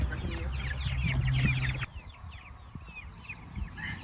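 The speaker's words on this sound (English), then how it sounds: "The Cornish Cross chicks and the Jersey Giant chicks are in their new home." Cornish Cross and Jersey Giant chicks cheep and cluck in a temporary coop, a busy overlapping chorus of short chirps, close and moderately loud at first, then thinner and quieter after a steady background hum cuts out.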